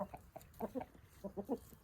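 A Wyandotte hen clucks among other chickens, giving soft short clucks in quick clusters of two or three, fairly faint and close, with no talking.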